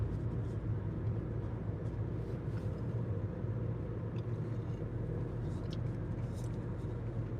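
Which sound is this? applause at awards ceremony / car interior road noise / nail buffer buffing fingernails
car interior road noise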